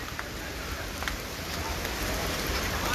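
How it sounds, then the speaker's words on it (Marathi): Steady rain pours at Legoland Dubai, a dense, even hiss of falling water with scattered drop impacts, holding constant over three seconds with no talking. "लेगोलँडचा पाऊस झाला आहे पूर्ण"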